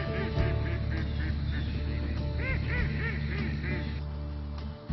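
Geese honking repeatedly at a wetland breeding ground in the Yukon Flats, Alaska, their calls rising and falling in overlapping bursts over a steady low background.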